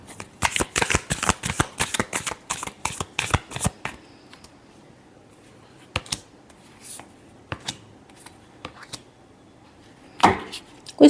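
Tarot cards being shuffled by hand, a fast burst of crisp riffling snaps for about four seconds, then a few isolated card taps and flicks in a quiet room, with a sharper rustle near the end.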